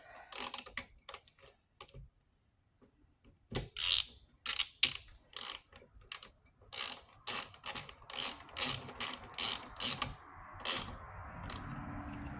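A Craftsman V Series ratchet clicks in quick, sharp bursts as its socket is spun by finger, with irregular clusters of close ticking separated by short pauses.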